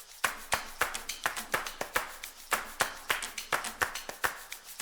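Crisp clap sample in a steadily building electronic track, struck in a regular rhythm of about four hits per second, upfront and dry over a quiet backing.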